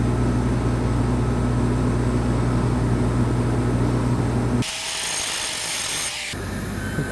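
TIG welding on 18-inch chrome pipe while walking the cup, a steady close buzzing crackle that stops abruptly partway through, followed by a brief different hiss.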